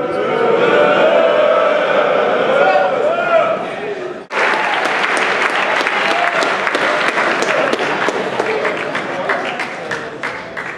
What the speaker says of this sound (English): I asked them to cheer and you clap positively.